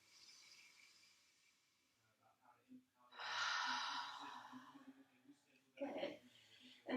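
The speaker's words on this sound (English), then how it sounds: "Inhale. Big exhale." A big mouth exhale during yoga breathing, a long breathy whoosh near and clear, framed by a softer inhale and quiet spoken guidance.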